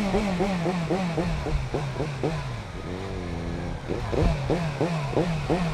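A motorcycle engine revs repeatedly, rising and falling in quick pulsing bursts with a sustained high rev in the middle, close and fairly loud, with a voice speaking faintly underneath.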